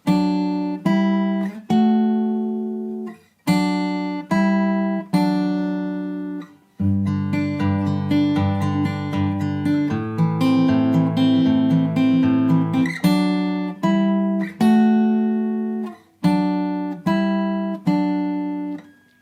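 An acoustic guitar plays the chorus of a song, mixing ringing picked notes with a denser strummed passage in the middle, loud and close, without any voices.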